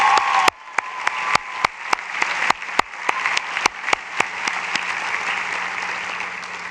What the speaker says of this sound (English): Graduates, can we honor those who helped us get to this stage today with a round of applause?